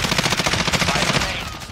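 Rapid automatic gunfire in Warzone rattles out in a fast, even burst of loud, close shots, then tapers off toward the end.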